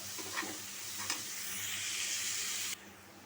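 Onion and spice paste fry in a pan for beef curry with potatoes, a close sizzling hiss with a few spatula stirs, then the sizzle swells brighter before dropping suddenly.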